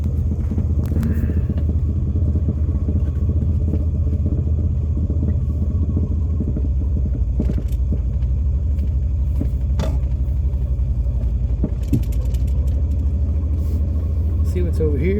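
A 1978 Pontiac Sunbird Formula, stock and parked for ten years, drives with a steady low engine rumble and rolling road noise, punctuated by occasional knocks and clatter; someone talks over it.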